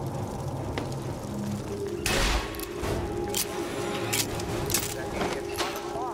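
A shotgun fires in BioShock Infinite: Burial at Sea, giving a sharp loud blast followed by several more scattered shots over a noisy game background, while a voice talks over it.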